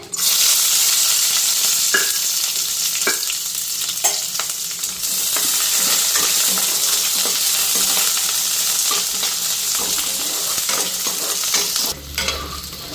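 Constant crackling sizzle of food frying in hot oil before kharkol leaves are added, with intermittent scrapes and clicks of stirring, no voices.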